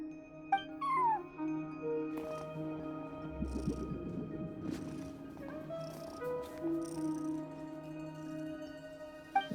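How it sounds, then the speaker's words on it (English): A cat in the Genshin Impact video game, meowing and trilling at a front desk in short chirpy calls, with a low purring rumble partway through over a soft steady in-game background hum. "No one except for a cat watching over the front desk."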